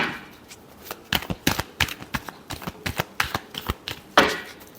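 Tarot cards being shuffled up close, a rapid series of crisp riffling slaps and flicks in uneven bursts, ending with a louder final riffle.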